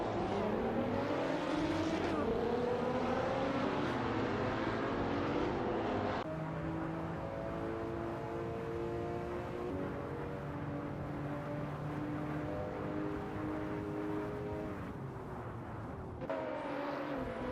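Hypercar engines roar continuously in a racing simulator game, several loud overlapping engine notes rising and falling in pitch with gear shifts and passes, a dense sustained racing din throughout with no talk.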